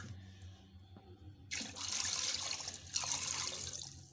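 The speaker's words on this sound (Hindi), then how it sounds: "इसमें 2 किलो के करीब पानी ऐड करेंगे" About 2 kg of water poured into a cooking pot of frying whole spices, including black pepper and cloves, for desi chicken yakhani. A faint low background gives way to a loud, steady rushing pour that begins partway through and keeps going to the end.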